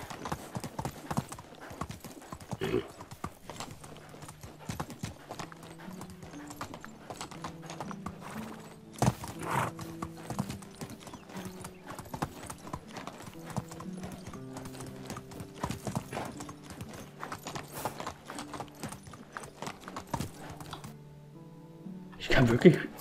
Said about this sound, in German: Und wenn das Pferd dabei diese Geräusche macht,